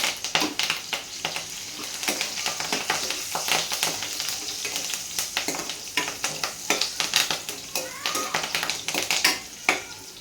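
Curry leaves hit frying carrots in a pan, giving a steady sizzle broken by repeated sharp clinks and taps of stirring, fairly close and moderately quiet.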